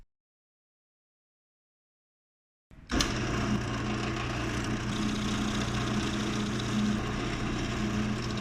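A drill press bores into wood pen blanks, starting suddenly after a stretch of silence, then a steady close motor hum with a whirring cutting noise that holds evenly to the end.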